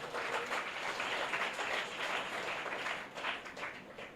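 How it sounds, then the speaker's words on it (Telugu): A congregation claps together during a Sunday worship service in Nellore, producing a steady, dense wash of applause that swells and thins slightly but never drops away. "చప్పట్లు కొడదాం ఒకసారి."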